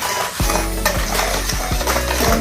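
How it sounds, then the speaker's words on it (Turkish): Cake batter is stirred in a bowl with a utensil, a continuous loud scraping and slopping with regular thudding strokes roughly every half second, no voices over it. "İyice karıştıralım."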